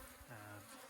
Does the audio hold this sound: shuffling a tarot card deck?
no